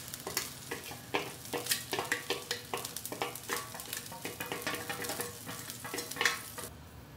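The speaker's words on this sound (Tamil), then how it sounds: "சேமியாவை இதில் போட்டுருங்க." Vermicelli for kesari is stirred in a pot of boiling water, making a quick, rhythmic series of scraping and bubbling strokes, close by and moderately quiet with no talking.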